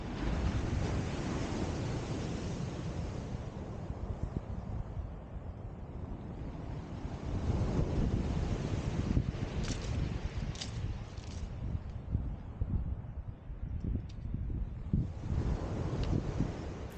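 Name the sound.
breezy wind at the seaside beach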